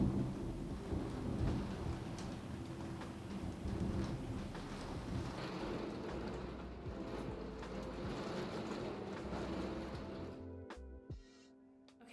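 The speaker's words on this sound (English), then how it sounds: "I waited the storm out and thank goodness it only lasted like 20 minutes." A thunderstorm brings steady heavy rain with deep rumbling thunder rolling underneath, loud and continuous before it thins out near the end.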